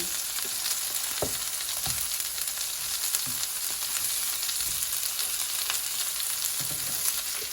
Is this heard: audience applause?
no